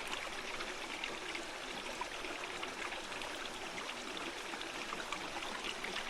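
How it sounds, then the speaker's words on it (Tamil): Flowing stream water in the Madagascar wilderness, a steady broadband rush and trickle that runs unbroken and fairly close for the whole stretch, with no voices over it. "நல்ல வேலை ஓட சத்தம் கேட்டுச்சு, பிடிச்சிட்டேன்."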